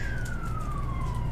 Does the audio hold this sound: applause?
no